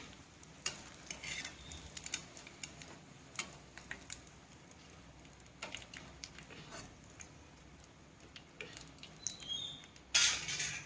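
Rice pakodi fritters frying in hot oil over a lowered gas flame, a steady soft sizzle with scattered crackles and occasional stirring clicks, a brief louder burst near the end.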